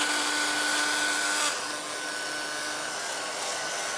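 A heat or drying tool blows air over a freshly painted altered book cover, a loud steady whirring hiss that drops slightly in pitch and volume partway through and then keeps running.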